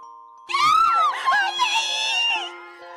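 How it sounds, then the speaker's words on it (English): Girls scream loudly together as a sound effect in the visual novel game Nameless, a dense burst of high, wavering shrieks over a steady musical tone that then trails off. "The girls screamed louder."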